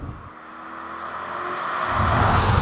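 A 2018 Kia K9 5.0 GDI Quantum with its large V8 accelerating, the muted engine note heard from inside swelling steadily louder and rising toward the end, with no talk.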